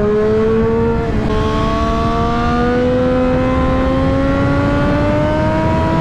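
Triumph Daytona 675 R motorcycle from 2016, its engine pulling hard under acceleration, with a steady rising whine climbing in pitch after a brief gearshift dip near the start, loud and close throughout.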